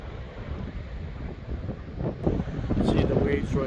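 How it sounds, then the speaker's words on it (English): High surf rolls in at Mori Point on a windy coast, a low wash of breaking waves that swells louder toward the end, with gusts buffeting the microphone and a brief voice. "see the waves right there. Sound of the waves."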